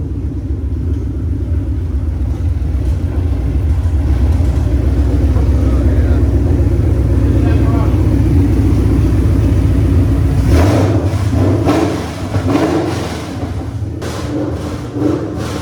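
A Ford Coyote V8 swapped into a widebody Mustang runs with a deep, steady rumbling idle close by, then is revved in several sharp bursts toward the end, with a voice briefly over the engine.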